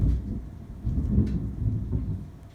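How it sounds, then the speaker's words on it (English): Thunder rumbling outside during a storm, a low heavy roll that swells and fades over a couple of seconds with a faint patter of rain behind it, heard indoors with no talking. "It is thundering outside"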